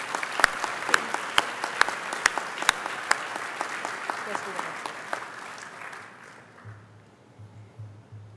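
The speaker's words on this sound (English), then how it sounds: "Let's give them another round of applause for their accomplishments." An audience applauds student athletes at an alumni club weekend event; steady, dense clapping with some sharper nearby claps fades out toward the end, where a low hum remains.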